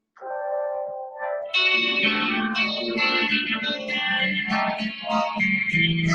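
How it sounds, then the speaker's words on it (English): Christian techno country music plays with heavily effected, chorused synth tones, starting as a thin sustained melody before a fuller layered mix with a steady beat joins in. "Don't that just sound like some good old Christian music, though?"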